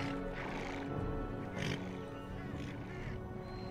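Horses neigh during a siege of Malta battle in the Empire Total War video game, a few whinnies rising over a dense, rumbling battlefield din, moderately loud and fairly close.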